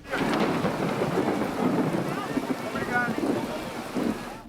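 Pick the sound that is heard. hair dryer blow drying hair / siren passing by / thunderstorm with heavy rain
thunderstorm with heavy rain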